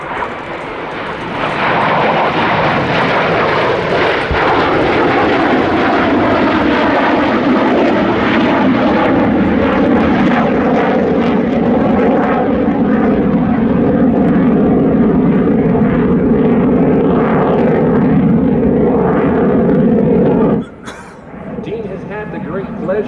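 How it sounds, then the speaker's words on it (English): A North American F-100F Super Sabre jet passes at the 2022 Thunder Over Michigan air show. Its loud, sustained engine roar builds and holds for about twenty seconds, then cuts off abruptly. "From behind and to the left, here comes Cutter and the F-100."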